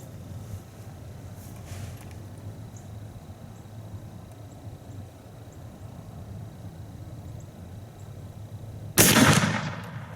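A single sharp, loud gunshot from an 1842 rifled musket fired at a 75-yard target, cracking out near the end after a stretch of quiet outdoor ambience, with a short decaying echo.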